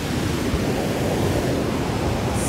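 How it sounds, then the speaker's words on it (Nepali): A fierce, swollen river roars in a dense, unbroken rush of broadband noise, loud and close throughout with no voices. "यस्तो छ खोला एकदमै भयङ्कर छ"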